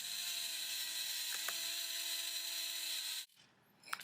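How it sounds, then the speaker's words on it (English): A Dremel rotary tool drills into the ends of a crack in a cast engine block, a steady high-pitched whine running nearly continuously before cutting off abruptly, followed by a brief quiet clatter. "now after locating each end of the crack, I'm just partially drilling into there to help prevent it from cracking any further."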